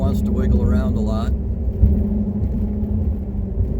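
A car driving onto a see-through metal grate bridge deck over a lake, a steady loud road rumble and drone; a voice speaks over the first second, then the tire hum continues alone.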